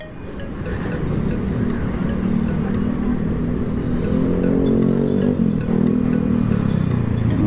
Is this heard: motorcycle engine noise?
yes